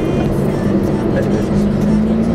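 A BMW M3 or Alfa Romeo Giulia QV on a track day, its engine droning loudly and steadily at low speed in first gear, with a voice talking over it throughout.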